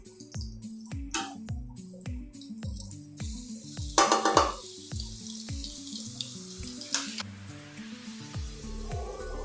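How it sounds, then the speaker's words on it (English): Garlic cloves sautéing in a generous glug of olive oil for minestrone soup: a soft hiss rises after a few seconds and holds steady, with occasional clinks, under a melodic background tune. "Saute it till the garlic releases its fragrance and it is lightly cooked and golden brown."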